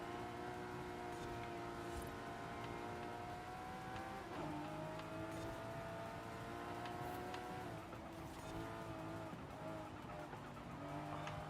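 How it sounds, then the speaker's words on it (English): A car in Forza Horizon 5 drones through a steady engine note with tire squeal and turbo whoosh around downshifts, carrying on continuously at moderate level for over ten seconds. "There's a nice turbo noise on the downshift."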